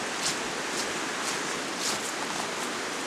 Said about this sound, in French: Oh, il y a des vagues